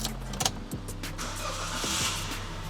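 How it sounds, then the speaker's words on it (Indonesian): A used car started with a regular key cranks and catches, settling into a steady idle, with a few clicks and mechanical whirs up close. "langsung kita nyalain aja guys mobilnya"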